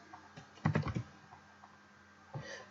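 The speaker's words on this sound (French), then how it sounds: "Je tape Sublime Text." Typing on a computer keyboard, a quick cluster of clicking keystrokes followed by a pause and a few more taps, close and fairly quiet.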